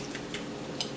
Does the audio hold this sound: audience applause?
no